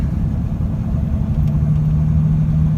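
An automatic pickup truck coasts down a Pennsylvania mountain road with overdrive switched off, giving a close, steady low engine rumble that holds even for a few seconds.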